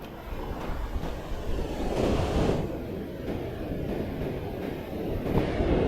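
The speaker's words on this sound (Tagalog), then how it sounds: "lakas naman ng alon" Strong ocean waves roar and surge in a continuous wash, swelling louder midway, with wind buffeting the microphone.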